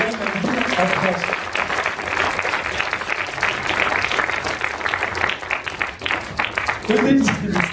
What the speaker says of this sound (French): Alors on l'applaudit vraiment parce que c'est Fabrice Leroy, le distributeur de films de Madine en France